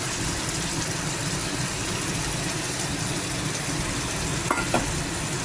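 Steady frying and stirring in a pan as a sour yogurt mixture goes into pointed gourd curry, a dense close sizzle running throughout with a couple of brief scraping knocks near the end, no talking.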